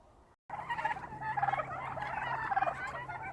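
Several turkeys gobble and chatter together in a busy, warbling chorus, close by, with repeated bursts of gobbling over a steady low hum.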